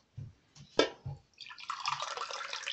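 Warm water poured from a glass for a lemon and salt mixture in a home kitchen, starting with a few soft drips and clinks, then a steady close splashing pour for the last second or so.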